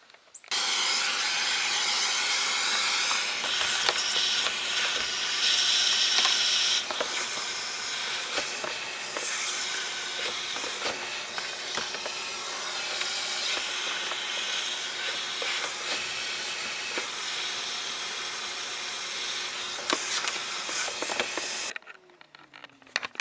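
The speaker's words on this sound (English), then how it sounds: "use my shop vac and a crevice tool and clean out that nasty hole" A loud, steady shop vac roar with a broad hissing whoosh, using a crevice tool in a Honda Odyssey's cabin air filter housing, runs close and continuous for about twenty seconds before cutting off near the end.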